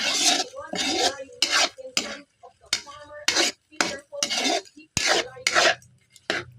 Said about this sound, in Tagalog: Haluin natin. Para maluot ang lasa.